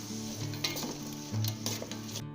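Vegetable fried rice ingredients with chopped pineapple stir-frying in a pan, a close, continuous sizzle with scraping and clattering of a spatula, ending abruptly.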